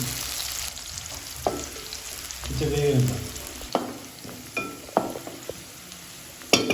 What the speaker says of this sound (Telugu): కొంచెం వేగనిద్దాం